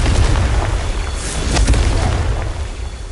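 A fire spell cast in the Hogwarts Legacy video game bursts into a heavy, rumbling explosion with a deep boom, crackling debris and a loud sustained roar that fades slightly, with no talking.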